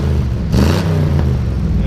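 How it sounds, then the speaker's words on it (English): A 1971 Ford F100 pickup with a 302 V8, C4 automatic and true dual exhaust revs up close by, its rumble swelling briefly near the middle while someone talks over the engine. "Rev it up a little bit."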